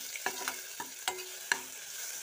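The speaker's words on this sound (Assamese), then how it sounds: "এতিয়া গোন্ধটো মৰালৈকে মই ধুনীয়াকৈ এইখিনি মানে ভাজিম" Onion, chili and garlic fry in a wok with a quiet steady sizzle, broken by a few light scraping stirs of a utensil.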